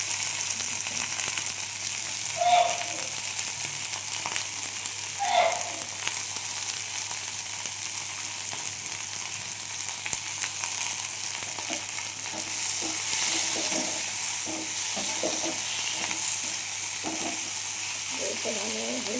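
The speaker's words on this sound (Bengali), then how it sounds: "এখন পেঁয়াজ কালিটা ভালোভাবে ভাজা হয়ে গেছে" Spring onion stalks frying in a pan with tomato paste and ginger paste, giving a steady close sizzle throughout, broken by occasional scraping stirs of the spatula.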